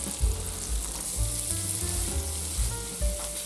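Unsalted butter melts in a pan for a dill and parsley sauce, giving a steady, close frying sizzle with soft crackles throughout and no talking.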